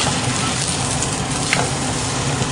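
Tortilla frying in shallow, low oil in a pan for a beef enchilada casserole, a steady close broadband sizzle with a faint crackle or scrape near the middle, no talk.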